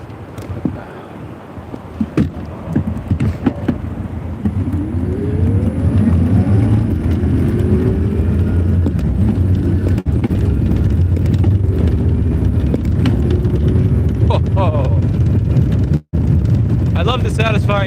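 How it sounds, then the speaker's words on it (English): Electric bus motor controller without flux weakening, a rising whine with gliding tones sweeping upward as the bus pulls away and shifts, over steady low road and wind rumble throughout. "I love the satisfying sound that this sub-baton controller makes without flux weakening when you switch gears and move up."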